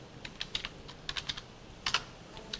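Fingers tap a computer keyboard in irregular short bursts of clicky keystrokes, close and moderately loud over a quiet room with no talk.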